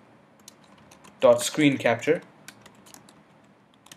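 Light, rapid clicking of keys on a Mac keyboard as a Terminal command is typed in OS X Mountain Lion, faint and steady, briefly covered by a short stretch of talk in the middle.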